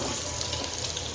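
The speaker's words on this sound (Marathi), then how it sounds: "इथं मी कांदा टाकलाय तळायला" Onions frying in a pan for vegetable biryani, a steady close hiss and sizzle of hot oil, continuous and even throughout with no talking.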